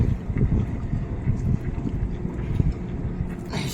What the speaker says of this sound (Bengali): একটা টুরিস্ট বোট যাচ্ছে